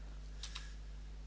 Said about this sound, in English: Now Doc has to use his typewriter again and send me a letter.